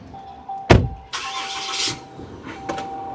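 A 2025 Ram Cummins diesel pickup truck engine cranks with a sharp burst, then catches and roars briefly before settling into a steady idle, with a couple of clunks near the end.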